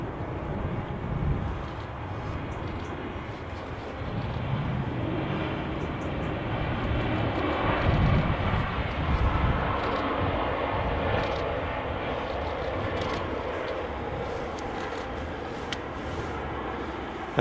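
An Icelandair airliner in a new livery lands at Manchester Airport, its engines giving a continuous rumbling roar that peaks around the middle as it passes nearby, heard alone without voices.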